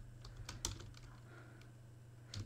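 Quiet, sparse key taps on a computer keyboard as a folder name is typed, a few soft clicks close by with no talking.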